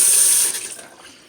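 Water running from a kitchen tap to fill cups, a loud close hiss that fades within about a second.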